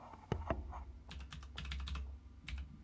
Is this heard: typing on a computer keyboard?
yes